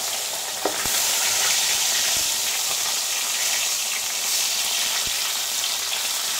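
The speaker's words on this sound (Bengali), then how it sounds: "এবার দেখে নিচ্ছি মাছটা কতটা ভাজা হয়েছে" Fish fries in a pan with a dense, even hiss of hot oil filling the whole stretch, close and steady, broken by a couple of faint clicks; no speech.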